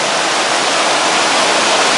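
Yaken Falls, a waterfall, sends a steady, loud rush of broadband water noise that keeps going with no break and no voices.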